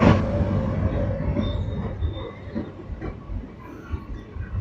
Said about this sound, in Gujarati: WAG9 લોકોમોટિવ આયરે આવી ગઈ છે આપણી ટ્રેન।